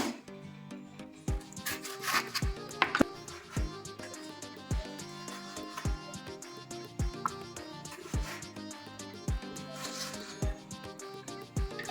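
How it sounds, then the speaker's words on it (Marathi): Knife chopping tomatoes into four pieces on a cutting board, a series of sharp, regular thuds repeating about twice a second, close and clear, with faint rustling between cuts. "तर सर्वात पहिले आपण टोमॅटो कट करून घेऊयात।"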